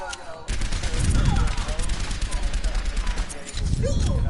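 Rapid video-game gunfire rattles in dense, loud bursts for most of the stretch, briefly pausing near three and a half seconds before resuming, with no talk over it.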